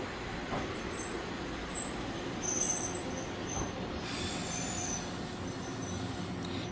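Train pulling into a station with steady rumbling wheels on rails and brief high-pitched squeals of the wheels and brakes as it slows.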